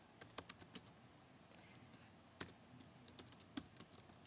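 Light tapping on a computer keyboard while entering an email address, a few scattered keystrokes with pauses between them, quiet and close against a faint room hiss.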